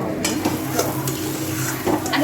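Crab frying in mustard oil in a pan, a loud, steady sizzle broken by close scraping stirs.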